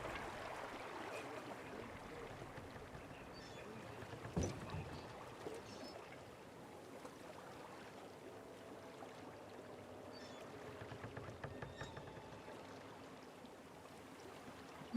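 A swan boat glides on water in the amusement-park video game The Park, steady soft lapping and paddling splashes under a low continuous wash, with a brief knock partway through.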